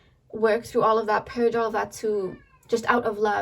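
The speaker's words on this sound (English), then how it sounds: "If you hear a little meow, that's my cat." A pet cat gives a short meow indoors, partly masked by a person talking steadily right through it.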